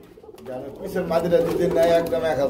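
Pigeons for sale at a pigeon market coo in soft, low, warbling tones amid close crowd noise and talk, forming a busy, layered murmur throughout.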